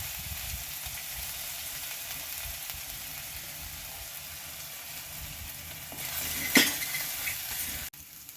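Asafoetida and green moong fry in a pan for a winter soup, a steady low sizzle with a sharp clink of a utensil against the pan near the end.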